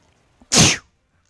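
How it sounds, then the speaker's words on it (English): One sharp, loud sneeze bursts out close to a microphone, a quick intake followed by a forceful explosive exhale, alone against near silence. "Good thing I sneezed off to the side."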